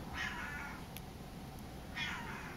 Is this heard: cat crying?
yes